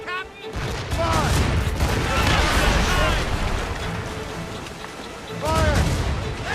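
Ship cannons fire in a naval battle in Assassin's Creed Rogue: loud, rolling volleys of booms and blasts with crashing debris, under a dense wash of battle noise and shouted voices.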